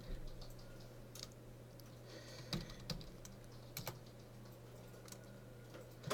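Quiet keyboard typing at a computer, with scattered soft key clicks and a few louder taps over a steady low room hum, no talking.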